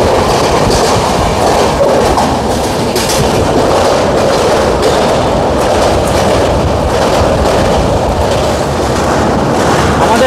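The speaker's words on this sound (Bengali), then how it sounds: "আমাদের দার্জিলিং মেল এই মুহূর্তে পার করছে বালি ব্রিজ।" The Darjeeling Mail crosses Bally Bridge, making a loud, unbroken roar of wheels and carriage rattle heard from on board, with a dense rhythmic clatter throughout.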